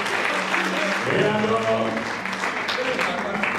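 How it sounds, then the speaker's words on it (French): Crowd of young people clapping at a senator's political address, a dense continuous applause bed with a voice speaking briefly over it and shouts mixed in. "Applaudissez très fort, c'était souhait, applaudissez."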